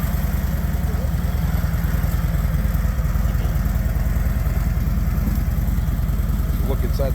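2021 Harley-Davidson Street Glide motorcycle engine idling, a loud, steady, low pulsing rumble with a clattery edge that runs the whole time.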